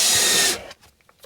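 A power drill driving a screw into a plywood sheet mounted on a wall inside an RV, a loud close whir for about half a second that stops abruptly, followed by faint handling clicks.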